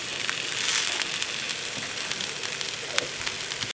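Birria tacos topped with cheese fry in a pan with a dense, continuous sizzle, close and fairly loud, with small pops and crackles scattered through the hiss.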